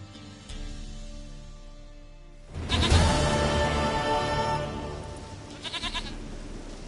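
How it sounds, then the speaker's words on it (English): Goat bleats in The Witcher 3 video game: a loud, wavering cry starts near mid-clip and trails on, followed by a few short, rapid bleats near the end, with no speech. "Goat of mine, dearest, sweetest goat."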